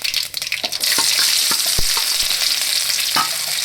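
Onions drop into hot oil already holding mustard seeds and cumin, setting off a sudden loud, steady sizzle after a moment of lighter crackling, with a few spoon knocks against the pan.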